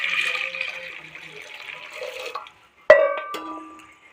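Water is poured into a pot of eggs for boiling, a splashing trickle for about two seconds, followed by a sharp metallic clank of the pot and a brief ringing.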